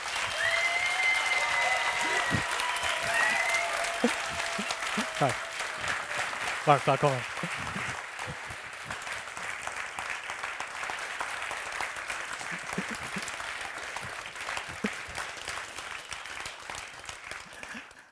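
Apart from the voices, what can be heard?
audience applause welcoming a debater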